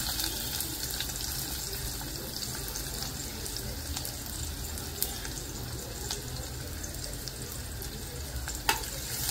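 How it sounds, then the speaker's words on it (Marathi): Chopped garlic frying in hot oil for mutton paya soup, a steady dense sizzle with faint stirring clicks throughout, close and continuous without any talking. "लसूण जरा ब्राऊन कलर होईपर्यंत परतून घेऊया।"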